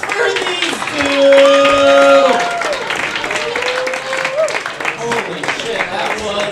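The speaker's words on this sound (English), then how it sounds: "clap your fucking hands for these two" Live comedy-club audience at a roast battle applauding and clapping, a dense wash of hand claps and some cheering running throughout, with someone talking loudly over it.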